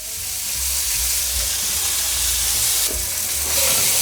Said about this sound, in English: now we're gonna go in with our onions. Then we're gonna go in with a little bit of avocado oil.